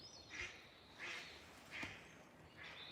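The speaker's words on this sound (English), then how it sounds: "It's that duck. You hear it?" A duck at a Buddhist nature preserve quacks four times at an even pace, each call a short nasal burst at moderate distance over quiet outdoor ambience.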